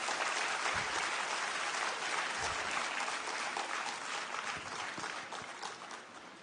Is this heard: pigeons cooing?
no